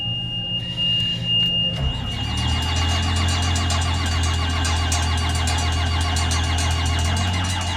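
A small engine on hay equipment cranks and catches with the throttle set high, then settles into a steady loud idle close by.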